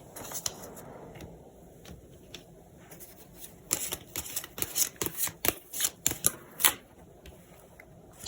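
Tarot cards are shuffled by hand in a rapid series of crisp riffling snaps and flutters that grow busier toward the end, close and clear with no talking.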